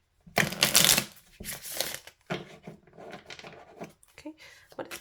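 Tarot cards being shuffled by hand in close, dense bursts of papery riffling and slapping, with quieter card handling between, while a person talks intermittently.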